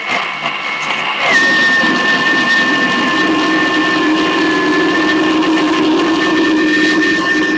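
A blender free spinning at speed 7 with mango ice cream cake mixture pushed out from the blades: a loud, steady high whine after a brief start, continuing evenly to the end.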